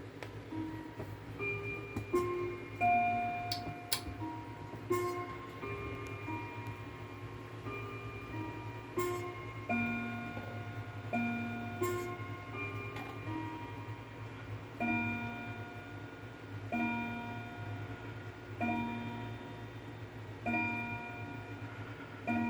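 A Haid Westminster chime wall clock striking the hour, with hammers needing adjustment: clear ringing chime notes in repeated phrases over a steady ticking, close and fairly quiet, with no voices.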